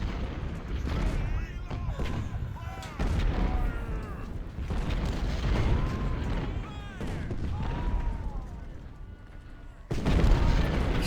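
Artillery fire in the Civil War strategy game Ultimate General: Civil War, a dense battlefield din of repeated booms and rumbling cannon shots under a talking voice.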